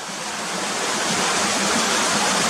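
Continuous heavy rush of the Cotter Force waterfall, a loud broadband wash of falling water heard up close and unbroken, with no talking over it.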